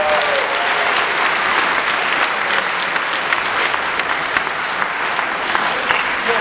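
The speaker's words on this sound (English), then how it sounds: "Can we just have one more round of applause for that wonderful atmosphere?" Steady, dense audience applause fills a school auditorium during a regional school spring concert, loud and continuous throughout with no talking.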